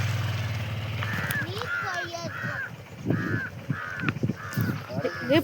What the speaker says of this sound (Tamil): நீர் கோழி நம்ம வீட்டு பக்கத்துல இருக்கு பாரு பப்பு.